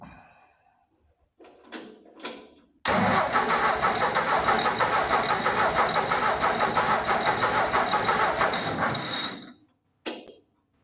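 A tractor engine with a suspected leaking head gasket is cranked by the starter during a compression test: a few short sputters, then about six seconds of loud, rapid rhythmic cranking, and one brief burst at the end.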